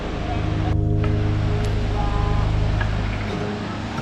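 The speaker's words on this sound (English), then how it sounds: "A constant stream of water flows over the rock and tumbles 133 meters down to a waiting plunge pool." Water plunges 133 meters into a plunge pool at the base of Japan's tallest single-drop waterfall, a loud, constant, close roar with some wind buffeting on the microphone.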